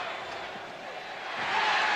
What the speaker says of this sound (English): Here's Dan Issel, the crowd yelling defense.